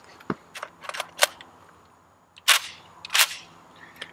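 Century Arms AK63D, an AK-47 variant rifle, fires several sharp, loud single shots at an outdoor steel-plate range, spaced irregularly with brief quiet gaps between them.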